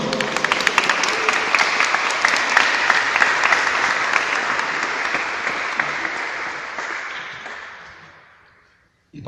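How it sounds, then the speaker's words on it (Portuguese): A church prayer-group congregation claps loudly in a dense, sustained burst that gradually fades away near the end, leaving near silence. "aplauda o Senhor."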